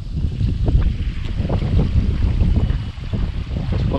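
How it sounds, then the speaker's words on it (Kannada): Strong wind gusts roar steadily near a green-water coastal spot near Mangalore during monsoon weather, buffeting loudly and continuously with rough, uneven surges and no voices. "ಆಹಾ, ತುಂಬ ಜೋರು ಗಾಳಿ ಬರ್ತಾ ಉಂಟು"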